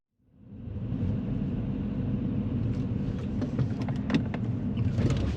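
Low rumbling car engine heard from inside while driving and slowing in gear, steady and close, with small clicks and rattles near the end.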